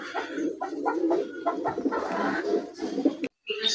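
A pair of Saleti Kamagar running pigeons coo close by in a series of soft, throaty, rolling calls, with a brief silent gap near the end.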